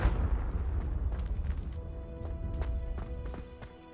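A Confringo spell explosion in Hogwarts Legacy, a loud booming burst at the start that rumbles and fades over several seconds, followed by scattered light crackles and clicks, with no talking.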